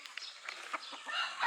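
A yellow-legged hatch gamefowl rooster at a gamefarm gives a quick run of short clucks and calls, fairly close and moderately loud, with no talk over it.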